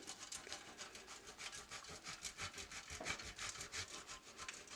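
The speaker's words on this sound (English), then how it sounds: "Still getting used to this type of grater." Cheese is rubbed across a hand grater in quick, even back-and-forth strokes, a soft rhythmic rasping heard close by but quietly, with no talking.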